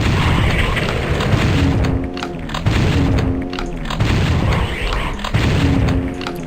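Shotgun blasts in the Doom 64 Retribution mod running on GZDoom, fired at Cacodemons pouring out of a fake wall: heavy booming shots repeat about every second over dense, rumbling game noise.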